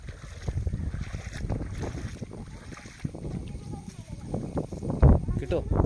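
Wind gusts buffet the microphone at a fishing spot by the water, a rough, roaring rush that surges and drops throughout, with people talking faintly underneath.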